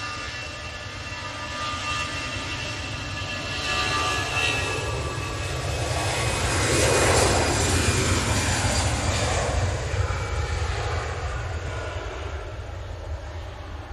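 A brand-new Emirates Airbus A380 with its engines producing a steady, loud roar that swells slightly toward the middle and holds without any talk.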